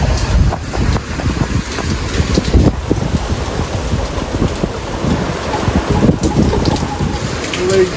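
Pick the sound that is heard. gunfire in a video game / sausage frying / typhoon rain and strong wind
typhoon rain and strong wind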